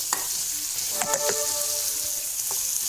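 Onions frying in a pan for curd rice, a steady close sizzle with occasional stirring scrapes and clinks, no voices.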